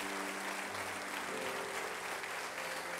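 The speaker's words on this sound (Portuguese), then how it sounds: "aplaudam bem forte ao Senhor nessa noite" An audience in a church gives a sustained, close round of applause at an evening service, an even wash of many hands clapping together with a faint steady hum underneath.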